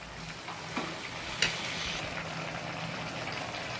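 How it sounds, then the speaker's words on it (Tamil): A spoon stirs thick thiruvathirai kali, a sticky sweet dish, in a pan on the stove. There is a soft, continuous sizzle with faint scraping and one sharp knock against the pan, and no talking. "நல்லா கிளறி விட்டுருங்க."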